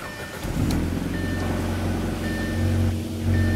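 A car engine with its check engine light on runs steadily with a low, droning hum and a sustained tonal whine on top, sounding rough and uneven, close up with no talking.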